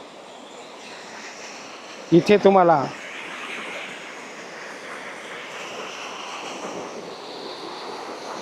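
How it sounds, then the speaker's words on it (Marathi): A natural waterfall pours with a steady, broad rushing roar that runs unbroken throughout, with a voice cutting in briefly near the start. "हा नैसर्गिक धबधबा आहे"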